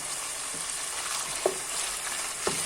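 Meat and a small piece of hot pepper cook for pilaf in a pan, giving a loud steady sizzle and hiss throughout, with a couple of brief taps from a utensil against the pan.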